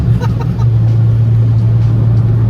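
A loud big-turbo 1.4-litre Abarth 595 engine drones steadily under acceleration with a deep, rumbling hum, close up and continuous, with no voices.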